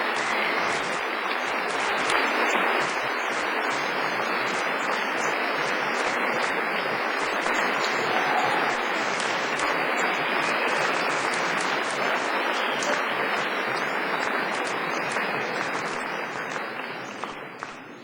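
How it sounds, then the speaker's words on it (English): A graduation ceremony audience claps steadily for about eighteen seconds, a dense, even wash of applause from a large hall crowd that tapers slightly at the end. "show your appreciation by giving them all a big round of applause"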